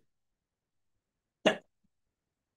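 A single sharp cough from a lecturer with a cold bursts out once, close and fairly loud, then silence follows.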